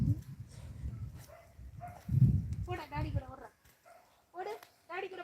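A dog barks and yips in short bursts outdoors in a coconut grove where food is being cooked. People talk loudly around it.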